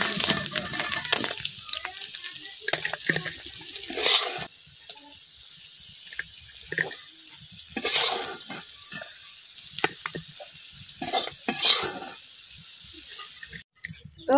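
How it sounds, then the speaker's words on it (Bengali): Fish sizzles as it fries in a pan, with steady crackling hiss broken by louder bursts of stirring and turning every few seconds; no one speaks. "আমার মাছগুলা কিন্তু আমি উল্টাই পাল্টাই ভাজা নিচ্ছি।"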